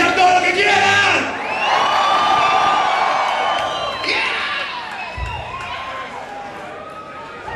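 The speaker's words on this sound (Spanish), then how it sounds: "¡Pueden gritar todo lo que quieran!" A concert crowd at Teatro de Colegiales cheers, whoops and shouts loudly and continuously, a dense roar of many voices with rising yells that swells and then eases slightly over several seconds.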